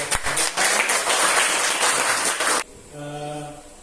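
Classroom applause for a student group: a dense burst of many hands clapping, loud and close, lasting a couple of seconds before cutting off into quieter room sound.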